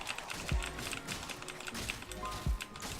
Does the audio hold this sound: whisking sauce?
no